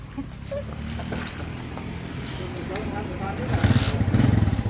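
A Suzuki Smash motorcycle that sat parked for two years runs on an owner's test ride, a steady low engine drone throughout that swells louder near the end, with faint background noise.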